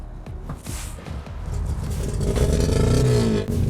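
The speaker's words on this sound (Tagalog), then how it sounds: "Unahin muna nating paandarin ang makina." An old Lada Niva police car that sat abandoned in a forest cranks with a few clattering turns, then catches and revs up into a rising, rough engine roar close by.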